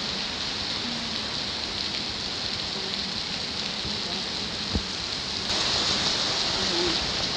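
Dense, steady downpour drumming hard on a roof, a continuous loud hiss with an occasional thud, growing slightly heavier near the end.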